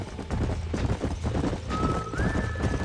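Horse hooves clip-clop steadily in a video game, with a high, drawn-out whinny rising near the end over the close, busy trotting.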